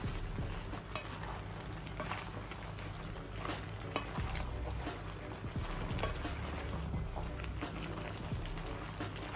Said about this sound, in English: you can see we have some nice sauce brewing